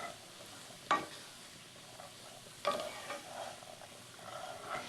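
Softened onions, celery and carrots cook in a pot with a faint steady sizzle, broken by two sharp stirring knocks of a utensil against the pot.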